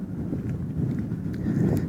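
Wind buffets an outdoor microphone in a steady low rumble that swells slightly toward the end, with no voices over it.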